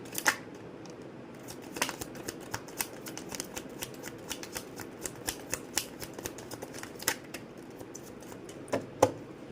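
Tarot cards being shuffled by hand during a reading: a steady run of soft, quick papery riffs and clicks, close and fairly quiet, with no talking.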